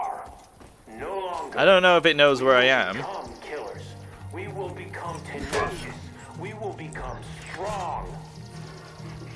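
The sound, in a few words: dog barking in the video game Far Cry 5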